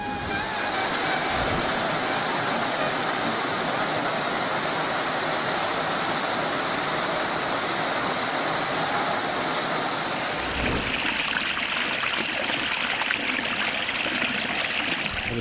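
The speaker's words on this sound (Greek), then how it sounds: "υπάρχουν οι καταράκτες." Waterfalls in the Kissavos mountains of Greece roar in a steady, loud, broadband rush of falling water that continues unbroken, with no voices over it.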